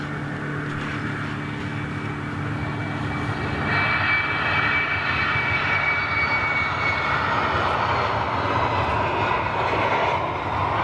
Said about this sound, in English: Oh, little Embraer going out.